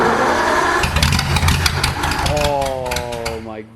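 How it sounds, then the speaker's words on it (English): A freshly rebuilt full house side valve V8 runs close by in a historic car collection, its low rumble and rising revs steady throughout while people talk over it. "This has got a full house side valve V8. It's just had a total engine rebuild."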